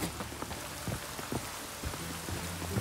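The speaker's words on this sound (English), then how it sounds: "It just rains and rains." Rain in The Witcher 3 patters steadily on surfaces in a town, a soft, even hiss of drops with scattered taps, continuous and alone without speech.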